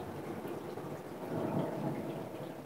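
Thunder in a violent summer storm at Loriol, Drôme, heard as a faint, distant low rumble that swells briefly in the middle over steady rain hiss, with no voices.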